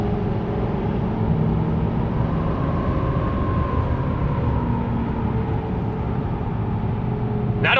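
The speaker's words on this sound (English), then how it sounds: "We'll just do a little acceleration here, and you'll see how fast this thing shifts." Steady, loud interior drone of a 2020 GMC Denali pickup accelerating through its 10-speed automatic, with engine tones sliding gradually in pitch as gears change smoothly; no distinct shift jolts stand out.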